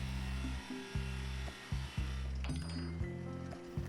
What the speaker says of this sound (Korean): 한쪽 면을 뚫어주고 나무를 뒤집어서 반대쪽도 같은 위치에 구멍을 냈어요.